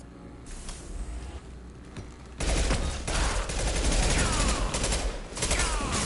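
Sustained gunfire from Mass Effect 2 Legendary Edition, a dense, loud rattle of shots that swells sharply partway through and keeps going as continuous combat noise.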